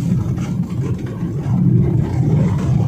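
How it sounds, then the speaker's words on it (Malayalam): Engine of a car on a road drive, a low steady rumble from inside the cabin that rises in level halfway through as the car accelerates and shifts up to third gear, with no talk. "ഞാൻ ഇതാ ഗിയർ സ്പീഡ് കൂട്ടി തേർഡ് ഗിയർ ആക്കുന്നു."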